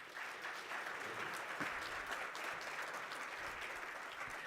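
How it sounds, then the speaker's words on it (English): Applause from a conference audience, a dense, even wash of clapping from a large crowd, steady and somewhat distant, with no talking over it. "these experts, deserve an enormous round of applause"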